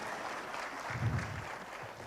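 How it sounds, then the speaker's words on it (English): Faint conference audience applause for the panel speakers, a soft continuous wash of clapping lasting about two seconds with a low murmur beneath. "we give applause to all the speaker here."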